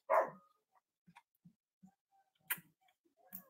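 A dog barks in a home, with one loud close bark at the start, then several short quieter barks spaced irregularly and two more sharp barks near the end, with no talk.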